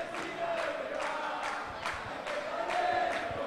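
Basketball arena crowd at an Argentine league game between Ciclista Juninense and Petrolero, cheering and applauding after a basket, with a steady crowd roar and rhythmic bursts of clapping throughout.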